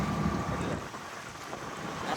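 Strong wind buffeting outdoors, a steady roaring rush with low rumble, alone without talking.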